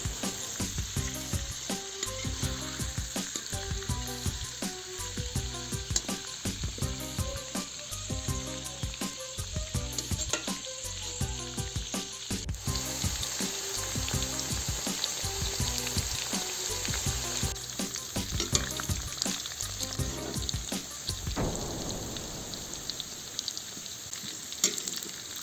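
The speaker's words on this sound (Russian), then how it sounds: "Картошку нужно будет аккуратно обжарить в казане в течение 5 минут до золотистой корочки" Potatoes fry in a kazan with a steady, close sizzle that runs throughout, broken by occasional stirring and scraping sounds. No one talks.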